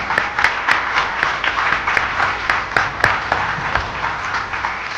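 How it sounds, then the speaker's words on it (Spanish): A church congregation claps for sister Marta, producing a steady, moderately loud patter of hands with a few sharper individual claps standing out, heard without talk. "Un aplauso a nuestra hermana Marta."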